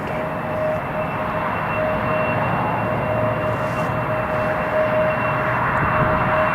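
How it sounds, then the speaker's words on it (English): Lufthansa CityLine Bombardier CRJ 900 regional jet at an airport, its engines giving a steady, continuous roar with a faint high whine, moderately distant and unbroken by speech. "Bombardier CRJ 900."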